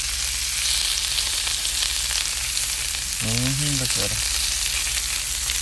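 Shrimp sizzling on a hot grill pan set high, a steady loud hiss and crackle running throughout, with a voice speaking briefly over it.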